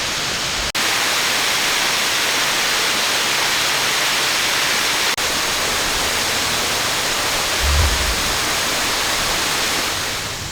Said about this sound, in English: I found another really stunning waterfall.